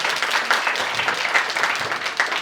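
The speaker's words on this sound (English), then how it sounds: "One more round of applause." Sustained audience applause at a workshop gathering, a dense, steady wash of many hands clapping at even loudness throughout, with no talking over it.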